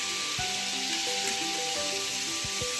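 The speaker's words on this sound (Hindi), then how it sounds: "गोश्त को मैं घी में रोस्ट करूँगी थोड़ा" Mutton pieces roast in hot ghee in a pan, giving a steady loud sizzle with occasional stirring scrapes, with faint music in the background.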